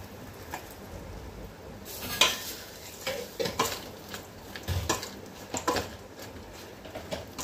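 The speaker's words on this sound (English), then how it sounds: "just mix in a couple of tablespoons of the tadka" A spoon works tempered spice tadka through flattened rice poha for a chaat, giving irregular close scrapes and clinks against the bowl with a faint sizzle-like rustle underneath.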